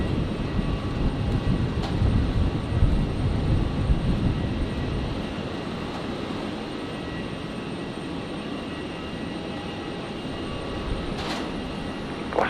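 A Virgin Boeing 737-800 arrives at Brisbane airport, its engines making a broad roaring rumble. The sound is loud at first and then fades to a steady, more distant drone, with no voices.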